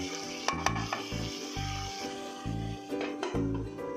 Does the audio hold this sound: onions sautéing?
yes